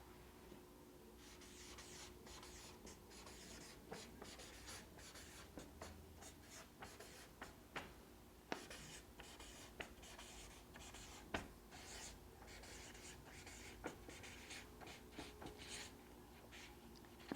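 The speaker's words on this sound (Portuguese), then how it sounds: "Então eu vou escrever lá." A sentence written by hand on paper in a first-grade Portuguese lesson, soft continuous scratching of the pen with small taps and strokes, quiet and close, running steadily with no talk.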